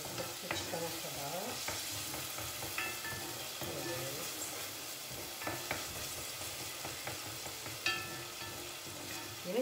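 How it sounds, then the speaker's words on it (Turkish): Tomato paste sizzles softly as it is fried with onions in a pan, with frequent scraping and tapping from the stirring utensil and brief faint voices in the background. "Biraz salçayı kavuruyoruz."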